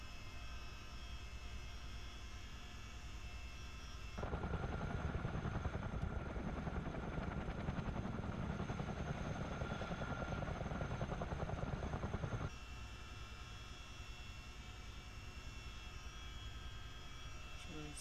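Steady rotor and engine drone from a Miltech Simulations CH47D Chinook helicopter in a flight simulator game, growing louder in the middle section before dropping back, while someone talks.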